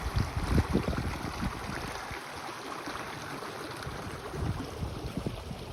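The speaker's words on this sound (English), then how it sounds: "The sound of running water, music to my ears out here." Running water of a mountain stream on the Colorado Trail rushes and burbles close by, a continuous splashing flow with slight surges in loudness.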